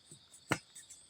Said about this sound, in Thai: เสียงมวนครับ